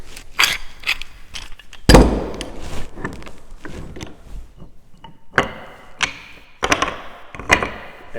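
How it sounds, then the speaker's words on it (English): Clamps being tightened on a wooden end table during a dry fit before glue-up, a series of close mechanical clicks, ratcheting creaks and a sharp thump, coming in short bursts with quiet gaps between. "what I'm going to do now is dry clamp this"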